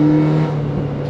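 A BMW Z3 engine hums in second gear in a loud, steady tone that eases slightly partway through, with no talking.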